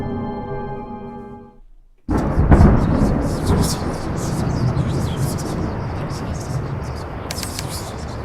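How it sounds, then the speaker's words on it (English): A heavy rumble of thunder breaks loudly in the video game The Lion's Song, ending a fading tonal passage. Steady storm noise follows with scattered bird chirps on top. "The storm, the thunder, lightning."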